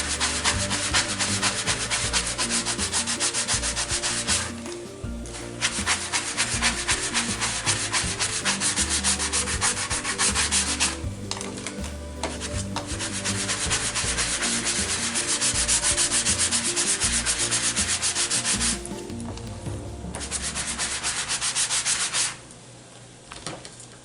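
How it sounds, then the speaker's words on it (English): Paper tags are sanded down by hand, giving a continuous rasping scrub with brief pauses between strokes, close and fairly loud with no talking. "So I'm just sanding these down and I'm gonna wipe it off."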